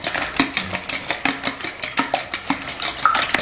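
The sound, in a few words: stirring and mixing egg omelette ingredients in a bowl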